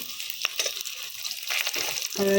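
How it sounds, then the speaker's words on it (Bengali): Muitha pitha rice cakes frying in a little oil, a steady hiss with scattered clinks of utensils, close by and fairly faint over its short span. "এখানে মুঠা পিঠা ভেজে নিচ্ছি একটু তেল দিয়ে"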